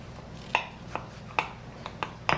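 A knife crunches through crisp, flaky blueberry pie crust in a few quick, light cuts, close and quiet against a soft background hum.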